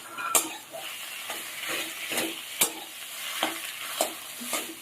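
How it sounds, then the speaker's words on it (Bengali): Mashed potato being stirred and mixed in a pan with fried onion and chilli, a soft sizzle punctuated by several sharp spatula knocks and scrapes against the pan, close by and without talk. "আলুর সাথে সব কিছু দিয়ে মিশিয়ে নিতে হবে।"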